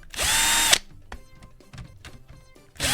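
A power drill backs screws out of a Wii console during a teardown: a loud whirring burst, then scattered clicks and small taps as parts are handled, and a second drill burst at the end, close and without talk.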